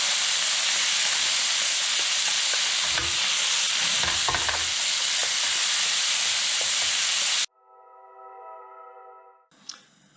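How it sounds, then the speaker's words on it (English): Seasoned beef sizzles loudly in a pan for Honduran baleadas as it is stirred, with a steady frying hiss and scraping knocks from the spoon, cutting off abruptly partway through. "Give it a quick stir."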